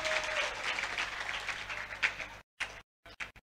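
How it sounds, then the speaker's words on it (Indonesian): A room full of people at a school Ramadan Islamic study event in Jakarta applauds, dense clapping that fades to a few scattered claps and stops. "Ya, tepuk tangan."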